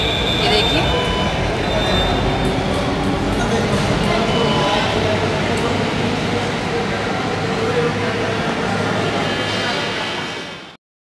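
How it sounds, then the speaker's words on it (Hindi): Crowded Delhi metro station ambience, a steady loud wash of reverberant crowd murmur and movement with a low rumble of train machinery running throughout, fading out at the end. "अब हम आ गए मेट्रो स्टेशन पे, ये देखिए।"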